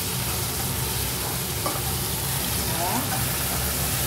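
Vegetables frying in hot oil for Ndongo Ndongo with smoked pork, a steady sizzle running throughout with light stirring, and a brief spoken word over it.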